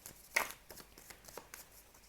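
Tarot cards shuffled and drawn by hand, a few quiet riffling and flicking bursts close by, one sharper snap near the start, no talking.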